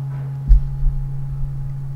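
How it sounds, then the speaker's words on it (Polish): An Earth planetary tuning fork struck gently on an activator gives a soft thump, then a pure, steady low tone that rings on evenly, close and clear, with no other sounds. "bierzemy do ręki kamerton Ziemi i w pierwszej kolejności generujemy ten dźwięk, uderzając oczywiście o aktywator"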